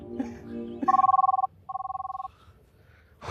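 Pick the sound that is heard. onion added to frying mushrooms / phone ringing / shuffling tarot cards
phone ringing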